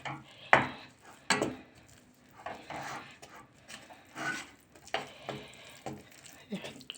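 Flour and oil being stirred together in a pot for flour halva, with soft scraping and intermittent clinks of a spoon against the pan, a few sharper knocks standing out, close and fairly quiet.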